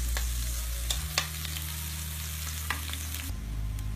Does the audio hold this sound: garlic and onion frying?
yes